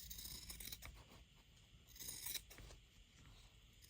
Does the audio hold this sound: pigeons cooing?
no